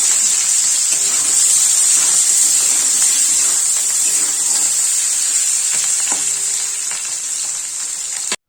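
Boiled potatoes fry in hot oil, a loud, close, unbroken sizzle with faint stirring clinks, easing slightly toward the end before stopping.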